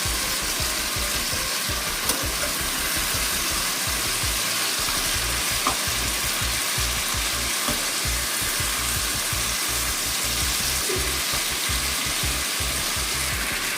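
Papaya and ridge gourd frying with turmeric in a pan, a steady continuous sizzle with occasional stirring scrapes and clicks of the utensil, close and fairly loud, with no talking.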